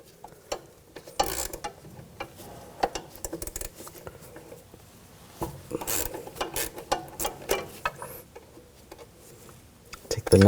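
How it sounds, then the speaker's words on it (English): A 9mm wrench and 10mm socket ratchet working the strut stud nut on a 2000-2006 BMW X5: close, rapid ratchet clicking in repeated bursts with metallic taps between them. "Using a 9mm wrench, put it on the stud, then a 10mm socket."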